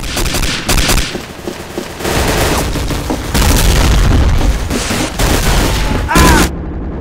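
Rapid gunfire in the World War II shooter Day of Defeat: Source during a Gun Game match: loud, dense bursts of shots and booms that run almost continuously, with a player shouting over the noise.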